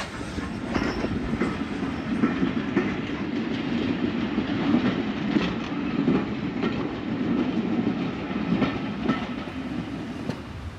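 A Swanage Railway steam train running along the line near Corfe Castle, heard as a steady, continuous rumble with rhythmic clickety-clack of wheels over rail joints, close and even throughout.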